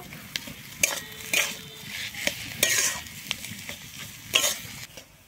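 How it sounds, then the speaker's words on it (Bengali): Potato filling with coriander leaves and garam masala is stirred in a pan, producing distinct close scrapes and clinks of a spatula in uneven bursts over a soft sizzle, with no speech. "আমি কিন্তু আবারও ভালোভাবে মশলার সঙ্গে মিশিয়ে নেব"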